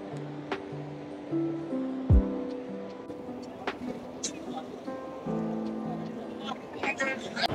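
Rough sea surf at Digha beach at night, waves washing against boulders along the shore, a low steady wash beneath a crowd's chatter and someone talking nearby.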